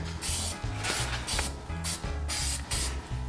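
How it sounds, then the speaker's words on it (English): Rust preventative paint sprayed from a can inside a car quarter panel, a series of loud, close hissing bursts that start and stop in an uneven rhythm, with no talking. "Over here I got like a rust preventative paint that works together with rust"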